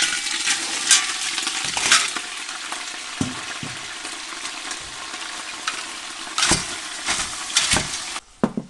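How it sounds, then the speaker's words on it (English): Lobster shells roast in a hot pan of olive oil with garlic cloves, giving a steady close sizzle and frying crackle, punctuated by scraping stirs and clattering knocks as the shells are moved around. "we need to roast these shells, and roasting the shells in oil"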